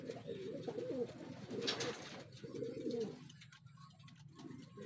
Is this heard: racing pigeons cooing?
yes